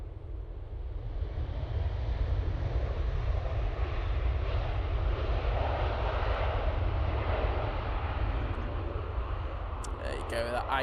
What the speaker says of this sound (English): beautiful landing that was from the Virgin Atlantic